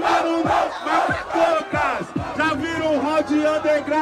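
A packed audience at a rap freestyle battle roars and shouts together in loud, rolling bursts, with a voice yelling over the crowd.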